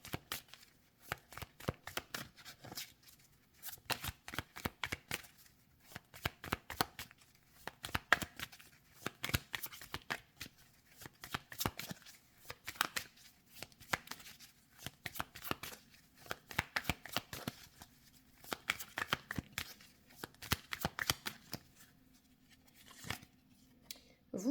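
A deck of tarot cards gets shuffled over and over in a quiet room. Soft, rapid riffling and snapping repeat steadily at low volume for the whole stretch.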